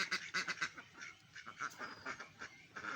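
Ducks swimming in a small farm pond give rapid bursts of quacking, several calls in a row, fairly soft and a little distant over a quiet background.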